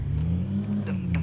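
A Ford Endeavour SUV engine revs as the vehicle is driven out, a loud, steady mid-pitched engine drone heard close and alone for a moment.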